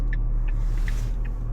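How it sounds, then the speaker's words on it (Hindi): Cars and other vehicles pass along a busy street, a dense continuous rumble of traffic close by, with faint horn-like beeps briefly rising above it. "गाड़ियाँ आ रही हैं उस साइड से, इस साइड से।"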